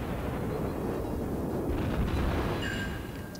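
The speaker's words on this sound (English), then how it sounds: "Putting shots on them, shot after shot going in. The reload on this 152mm guns is surprisingly quick" 152mm ship guns fire in World of Warships, heavy booming salvos rolling over a constant rumble of naval combat, close and loud throughout.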